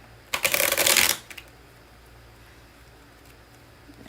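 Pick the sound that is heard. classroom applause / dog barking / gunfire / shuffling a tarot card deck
shuffling a tarot card deck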